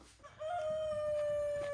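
A rooster on a homestead crows once nearby, a single long sustained call held steadily to the end.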